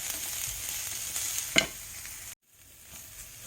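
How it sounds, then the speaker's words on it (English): Spices fry in a hot pan under steady, close hissing and sizzling, with a brief scraping swell as they are stirred partway through, then a sudden cut and a quieter sizzle afterward. "Just mix them and fry them"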